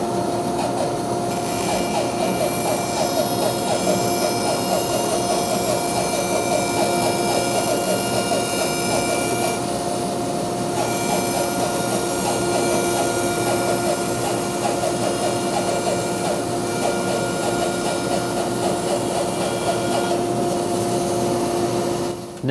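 Band saw resawing a board of lumber, a steady droning whine with constant mechanical hum and blade noise running throughout, loud and close, with no talking.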